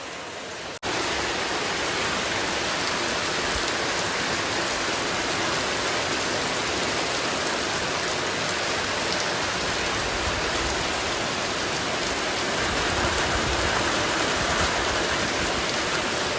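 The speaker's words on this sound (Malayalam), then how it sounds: "ഞാൻ നിങ്ങൾക്ക് മഴ നേരെ കാണിച്ചു തരാവേ" Heavy rain pours down steadily, a dense continuous hiss of drops beating on surfaces close by, holding an even loudness throughout with no voices.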